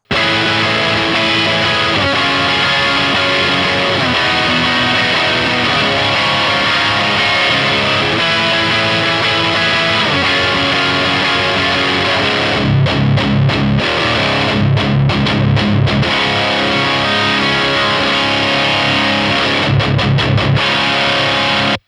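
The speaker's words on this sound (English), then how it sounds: "without the boost, just the pure sound of the amp" Loud, gritty electric guitar plays continuous riffs through a 100-watt amplifier with a Fane Crescendo AE speaker and no boost pedal, with chugging muted passages later on. Nobody speaks.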